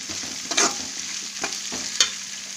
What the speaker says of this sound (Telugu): ఇది కొంచెం 1-2 నిమిషాలు ఫ్రై అవ్వాలి.